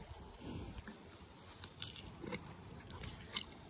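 A pet biting into soft, juicy watermelon, with a few wet crunches and soft chewing sounds spread over a quiet background.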